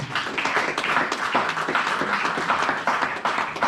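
A church congregation applauds in steady, dense clapping that carries through the whole stretch, with faint voices mixed in beneath.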